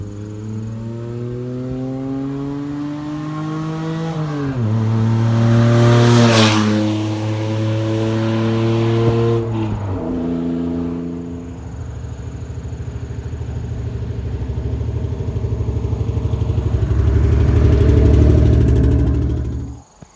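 A loud 1993 Mitsubishi 3000GT SL accelerates hard, its engine note climbing through gears with clear shifts. The engine is close and dominant throughout, then cuts off abruptly at the end.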